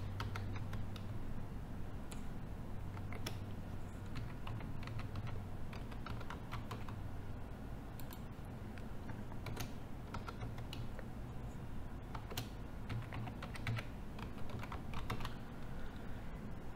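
A password is typed on a computer keyboard, with a steady run of quiet close key clicks and occasional sharper taps over faint background hum.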